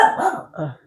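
A dog gives a quick pair of barks nearby, loud and clipped, with nothing else around them.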